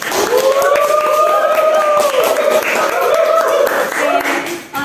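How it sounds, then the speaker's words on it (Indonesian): In a geography microteaching classroom, students clap while loud voices call out over the top, so the hand claps sit partly beneath the chatter. "Tepuk tangan dulu untuk kita semua."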